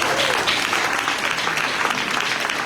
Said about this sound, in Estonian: plaksutame talle